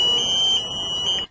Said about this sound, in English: If person has a high temperature, the alarm system will be activated